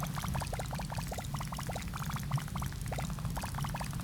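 Water poured in the Atomcraft chemistry sandbox game, a steady bubbly gurgling pour with rapid rising glugs, continuous and close, no talk.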